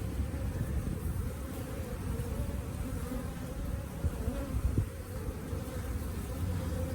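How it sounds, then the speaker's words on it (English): A close cluster of honeybees buzzes continuously during a bee cutout rescue, a thick low droning hum that swells slightly and never lets up. "It's a sizable little cluster of bees"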